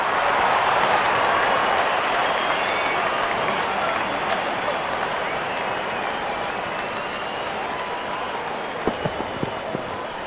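A packed cricket stadium crowd roars and applauds in a sustained, dense wash of cheering after a six is struck, a full house holding loud and steady before easing slightly, with a few sharp claps near the end.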